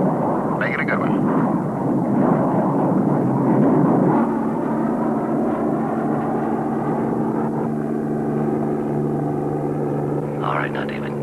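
An airplane engine drones at half throttle on a landing approach, a loud, steady hum that carries throughout with voices speaking intermittently over it.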